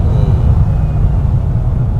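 A C8 Corvette's engine gives a low, rumbling grumble on a downshift during a night drive, heard from inside the car as a continuous deep burble with no voices.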